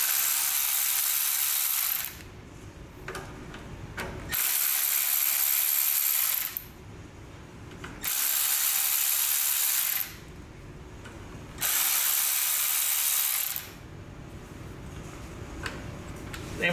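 A hand socket ratchet works on the quarter-inch screws of the starter clutch on a 1961 David Bradley engine, giving close, steady bursts of rapid clicking that alternate with short pauses, four rounds in all.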